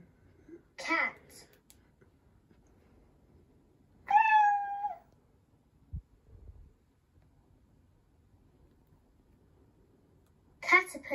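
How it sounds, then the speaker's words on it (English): A cat meows in a neighbourhood animals menu from an Australian DVD: one clear, wavering meow mid-clip, with short bursts of a voice before and after and a soft thump in the quiet gaps. "Cat."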